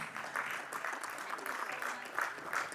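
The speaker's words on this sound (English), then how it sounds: "let's give her a warm, warm round of applause" An audience at a women's nuts and dry fruits industry event gives a round of applause, soft and somewhat distant, with a continuous patter of many hands and gentle swells.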